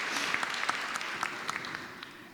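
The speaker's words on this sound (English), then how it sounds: "that's worth applause." A graduation ceremony crowd at a charter junior/senior high school claps for a graduating student, giving a brief, even wash of applause that holds steadily throughout, somewhat distant and moderately quiet.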